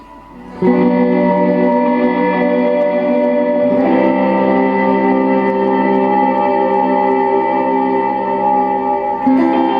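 A sustained synthesizer chord plays with a washy reverb tail, rich and bright, shifting slightly midway and holding steady for nearly ten seconds.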